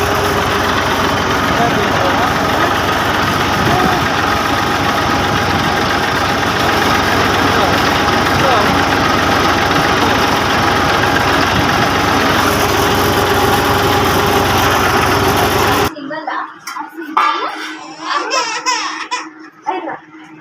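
A tractor engine idles near the microphone with a steady, loud, continuous rumble that cuts out abruptly toward the end, after which voices and laughter are heard.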